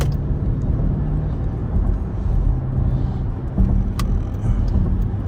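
A car accelerating on the road, heard as a loud continuous low engine and road rumble that holds steady throughout.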